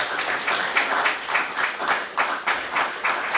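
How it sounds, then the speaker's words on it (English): A union audience applauds at a labor meeting where a metalworkers' union education director gives a report to a dockworkers' union local, sustained clapping filling the room steadily throughout with no voice over it. "Now you are clapping for all of these reasons that we took"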